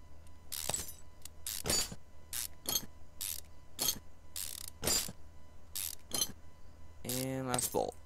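A ratchet clicks nearby while ignition coil bolts are removed from a car engine, in a string of short, sharp metallic bursts separated by brief pauses. It ends with a quick rapid ratcheting run and faint voices in the background.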